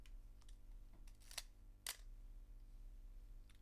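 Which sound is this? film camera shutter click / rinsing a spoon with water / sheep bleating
film camera shutter click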